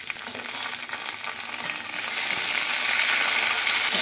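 Soybean curry with garlic paste, ginger paste and chopped tomato fries and gets stirred in a pan, a steady sizzle swelling louder halfway through with occasional scrapes, close and without talk.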